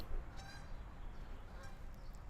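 Geese honk faintly in the distance at an outdoor dog-training lodge, two or three short nasal calls rising over a steady low rumble of background noise.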